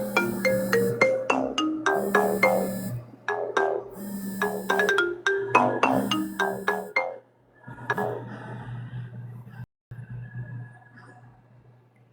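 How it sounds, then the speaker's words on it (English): A phone ringtone plays for an incoming call as a repeating melodic chime pattern over a low steady hum, continuing for several seconds, then fading to the hum alone. "I got that phone call."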